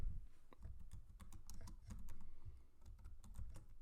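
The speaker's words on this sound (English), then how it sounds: "I'll type in the first part of the phrase, fazer trilha." Rapid keystrokes on a computer keyboard as a search phrase is entered, irregular clicking taps at moderate volume with no voices.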